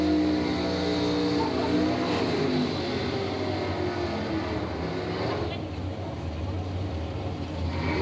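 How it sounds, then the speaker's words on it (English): Drag racing cars, including a Pontiac GTO and a 432 injected entry, roar at an Englishtown strip, a loud sustained engine drone that slowly fades, with an announcer talking over it. "Ready to go drag racing."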